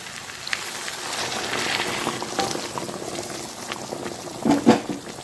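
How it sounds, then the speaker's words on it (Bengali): Chicken kosha gravy bubbles in a pot, a steady close simmering hiss with scattered pops and plops throughout. "গরম জলটা ফুটলে গ্রেভির লেগে দিয়ে দেবো"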